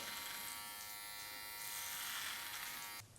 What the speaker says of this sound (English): That little soft line with our hard trimmer.